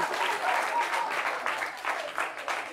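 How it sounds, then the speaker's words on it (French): A studio audience breaks into applause on a French-language talk show, a dense wash of clapping from many hands that swells early and then tapers in uneven bursts, moderately loud. "On l'applaudit."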